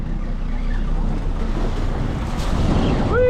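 Waves slap and wash over a fishing boat at sea on a very windy day, a steady roar of wind buffeting the microphone with rushing water close by.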